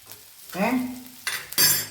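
A spatula stirs pieces of potato yam frying in a pan, making a few short, close scraping and clattering strokes with a light sizzle and brief pauses between them.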